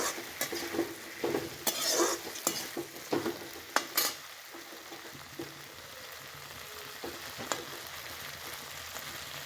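Okra with tomatoes frying in a pan, stirred with sharp utensil scrapes and knocks over a constant sizzle, busier in the first few seconds and then settling into a quieter, even fry.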